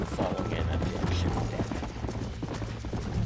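Horse hooves galloping in the Western video game Red Dead Redemption, a steady rapid clip-clop rhythm running continuously under game music and a voice talking over it.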